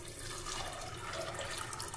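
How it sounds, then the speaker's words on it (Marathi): Water poured into a pressure cooker holding pigeon peas makes a faint, steady rushing pour, heard close and quiet with no voices. "आता यामध्ये पाणी घालूया"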